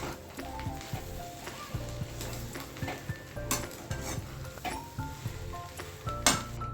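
A spoon stirs samosa filling in a pan with garam masala and red chili powder, scraping and clinking steadily against the metal under a soft sizzle, close and continuous with no talking.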